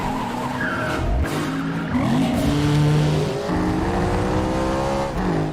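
A car chase with loud roaring engines and long squealing tire skids, cars passing close with rising and falling revs, no talk.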